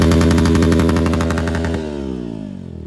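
A Hero Xpulse motorcycle with a new aftermarket exhaust revs loud and close, a rapid pulsing engine note held high and then falling away as the throttle closes.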